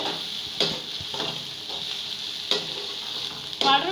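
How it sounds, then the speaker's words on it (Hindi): Chopped tomato sizzles in hot oil in a pan, with steady frying crackle and several scraping stirs at irregular intervals, close and clear, no voices. "टमाटर को हम 1 मिनट तक फ्राई करेंगे।"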